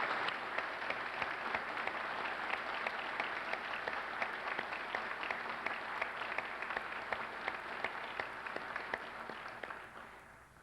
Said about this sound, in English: Please join me in a round of applause for our graduates.